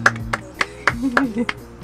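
Applause at a UST Paskuhan 2018 gathering: a handful of sharp, separate hand claps in an uneven rhythm, close and fairly loud, with a voice murmuring underneath.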